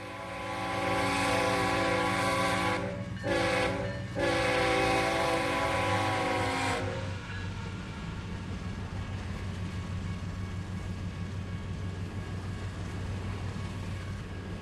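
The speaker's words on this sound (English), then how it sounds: "So here comes the CN manifest train." A loud train horn blasts in several long sounds as a Canadian National manifest freight train approaches, then the steady rumble and clatter of rail cars rolling past.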